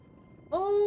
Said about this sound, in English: Oh, just a baby kitty!